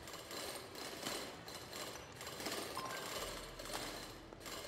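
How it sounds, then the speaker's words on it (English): Machine drilling in the video game Core Commander, a dense, continuous mechanical grinding and rattling with pulsing bursts, steady at moderate level with no talk. "Alright, let's drill that."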